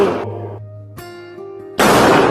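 Two sharp, noisy Diwali firecracker bangs, one at the start and one near the end, with tonal music ringing in between.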